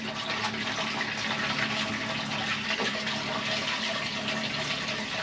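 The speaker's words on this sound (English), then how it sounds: "Where a bit of water comes out." Water pouring out of an opened weed filter on a boat engine on the Norfolk Broads, a steady close gush that runs without a break and with no talk.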